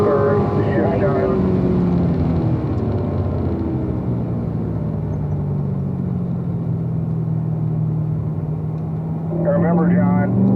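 A Corvette on a race track drones under braking and downshifting, its engine note falling and rising again in a steady rumble heard from inside the car, with a voice talking over it.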